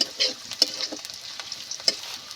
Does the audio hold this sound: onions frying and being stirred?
yes